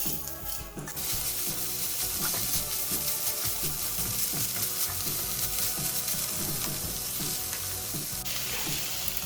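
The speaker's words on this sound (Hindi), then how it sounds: "मैं मुसलसल वेजिटेबल्स को फ्राई कर रही हूँ जल्दी जल्दी।" Vegetables and about a cup of chicken fry fast in a pan, a loud, dense, continuous sizzle with rapid rhythmic stirring and scraping throughout, nearby and with no voices.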